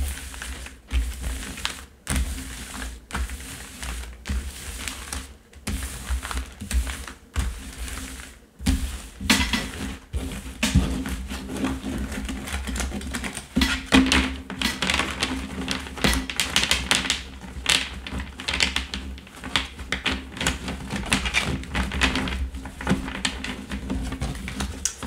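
Tarot cards are shuffled by hand in a long, close run of dense, rapid riffling and tapping that keeps pace steadily for over twenty seconds without talk.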